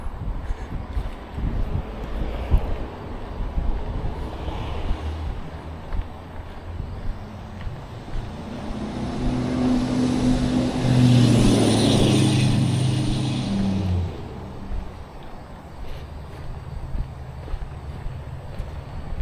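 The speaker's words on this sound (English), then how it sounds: "There's the car over there." A car drives past on a road beside the Montour Trail near the Greer Tunnel: a faint distant hum swells into a louder whooshing pass around the middle, then fades away, with wind and outdoor ambience throughout.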